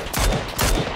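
Bursts of gunfire in a multiplayer shooter video game, two dense rattling volleys about half a second apart, loud and close with no talk over them.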